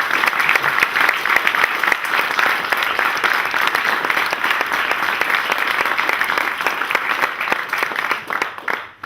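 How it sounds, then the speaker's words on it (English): A large audience gives strong, sustained applause, dense and even throughout before tapering off near the end. "I'd just like you all to join in strong applause for all of those people who I've mentioned"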